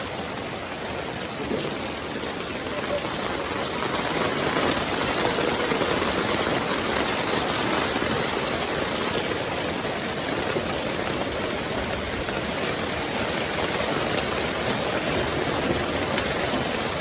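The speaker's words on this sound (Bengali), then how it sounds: "11:30 বাজে, আবার বৃষ্টি শুরু হয়ে গেল।" Rain falls outdoors around a house at midday as a dense, steady hiss that continues without a break, close and fairly loud, with no voices.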